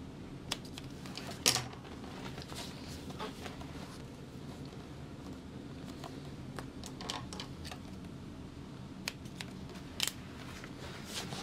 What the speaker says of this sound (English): I'm just going to snip my centers.